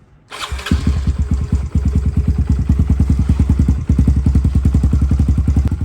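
A Kawasaki KLX110 dirt bike engine cranks and catches, then settles into a steady, loud, rapid-pulsing idle close by with no voices.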